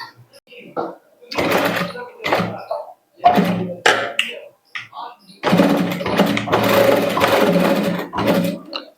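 Sewing machine stitching blouse fabric in a tailoring class, running in loud bursts of rapid mechanical whirring with short stops between, close by, and someone talking in the gaps.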